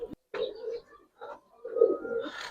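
Giribaz pigeons coo in short, throaty bursts, a couple of close calls separated by brief pauses, with no talk over them.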